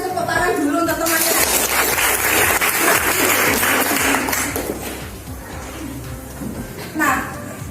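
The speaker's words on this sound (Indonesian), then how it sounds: "tepuk tangan dulu untuk temannya" Classroom applause for a student: a burst of clapping from schoolchildren for about four seconds, fading into chatter and a teacher's voice, with children talking throughout.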